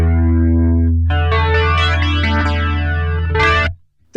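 LEKATO Tank G multi-effect guitar processor playing a distorted electric guitar with modulation engaged, a sustained chorus-washed chord swelling after a quieter opening note, loud and continuous, then cutting off near the end.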